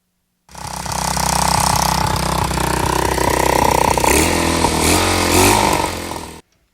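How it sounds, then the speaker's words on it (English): A custom West Coast Chopper-style bicycle's small engine runs loud and close, its exhaust a rapid, rattling putter that holds steady for about six seconds, rises slightly near the end, then cuts off abruptly. "I just boosted it off my truck to make sure it was running. Exhaust sounded good."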